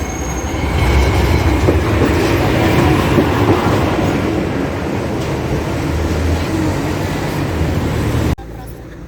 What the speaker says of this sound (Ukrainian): Трамвайчик.